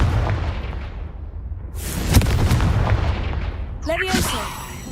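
A Confringo fire spell explodes in Hogwarts Legacy, a broad burst with a noisy, booming body that rises about halfway through and sustains, followed near the end by a sharp crackling flare, all over a constant low rumble of game ambience.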